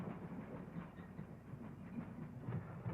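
Freight train cars roll down a railroad hump yard, a low rumbling with faint rhythmic clickety-clack of wheels over rail joints, moderately distant and steady.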